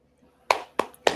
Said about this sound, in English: Can we get an applause on that one?